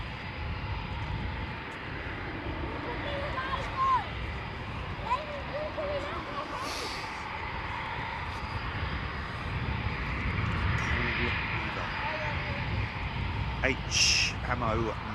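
A Eurofighter Typhoon jet at RAF Coningsby gives a steady, far-off roar that slowly swells, under near continuous commentary from people talking nearby.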